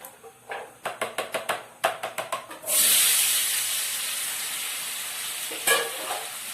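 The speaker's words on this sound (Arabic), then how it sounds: "انا غادي نبقاو معايا نخلط الخليط كله" A spoon stirs a yogurt and cheese-triangle mixture in a bowl. A run of quick rhythmic scraping strokes gives way to a louder, continuous swirling scrape, then one more brief stroke near the end.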